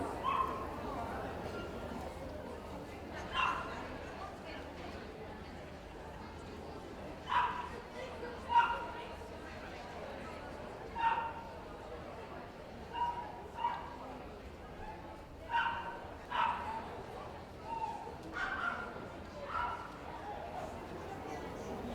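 Dogs at a championship show's utility group yip and bark in scattered short bursts, faint and somewhat distant over a busy indoor hall murmur with voices talking.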